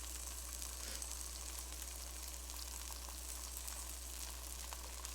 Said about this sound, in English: There's your fried bologna cooking up.